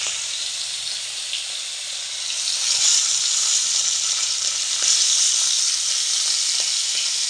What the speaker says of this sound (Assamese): যিমানখিনি মাছ আছে বন্ধুসকল চব ফ্ৰাই কৰা হ'ব